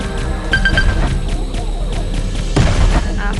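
A mine exploding in the PG3D (Pixel Gun 3D) shooter, one loud booming blast among steady gunfire and in-game clatter, with a brief tonal chime earlier.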